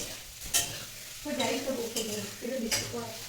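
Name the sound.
capsicum and peas frying in oil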